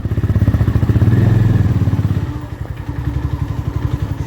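A new motorcycle rides along a road. Its engine throbs loud and close, rising, then easing to a quicker putter, with no talking.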